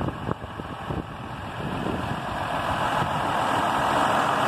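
A John Deere 6140R tractor engine runs steadily nearby with a low, even idling drone that swells slightly in loudness, with no talk.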